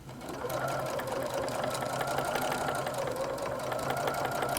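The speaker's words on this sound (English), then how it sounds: "Make sure you back stitch because you want to keep the corner in place." A sewing machine runs steadily and close by while back stitching the corner of a fabric tote bag, a continuous rapid mechanical chatter that holds its pace throughout with no talking.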